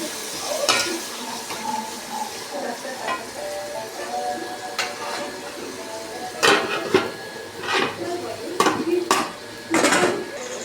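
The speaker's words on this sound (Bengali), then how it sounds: "মাংসটা দিয়ে ভালো করে আমি কষিয়ে নেব।" Meat being stir-fried in a pot on a home stove: metal spoon scraping and clanking against the pot in irregular bursts over a soft background sizzle, close and moderately loud, with no talking.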